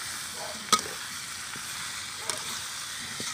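Taro roots being stirred into a pan of cooked masala for Himachali kadi, a soft, steady sizzle with a few sharp scrapes of the spoon against the pan.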